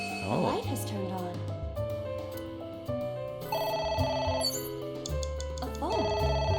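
A telephone rings insistently in the game AI: The Somnium Files, a repeating electronic ringtone over layered music and game sounds, with a voice speaking among them.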